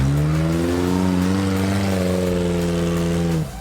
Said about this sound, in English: they're both supercharged buggies